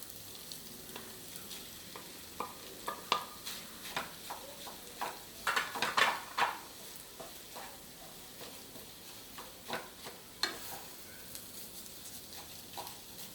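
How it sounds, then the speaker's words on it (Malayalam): Boiled potatoes being stirred into a tuna cutlet mixture in a pan, with soft scraping and light sizzling, plus a few sharper clinks of a utensil against the pan, fairly quiet and close, with no talk. "2 വലിയ പൊട്ടാറ്റോ ഉപ്പിട്ട് വേവിച്ചത്, അത് ഇതിലേക്ക് ഇട്ട് മിക്സ് ചെയ്യാം."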